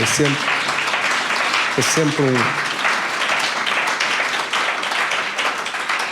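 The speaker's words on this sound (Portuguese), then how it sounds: "Damos um aplauso para Jesus, pela vida dele." Applause from a church congregation fills the clip with steady dense clapping, while a voice speaks briefly at the start beneath it.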